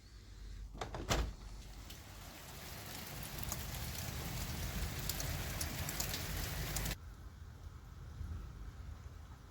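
Heavy rain pours steadily as a storm arrives in the Pyrenees in the early morning, a dense close hiss with a sharp knock near the start, then a sudden drop in loudness toward the end.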